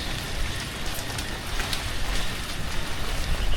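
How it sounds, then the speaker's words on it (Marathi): Heavy monsoon rain pours down outdoors during a crab-catching outing, a dense, steady patter of drops beating on surfaces close by with no voices. "पाऊस चालू आहे आता बघूया कसं होतंय"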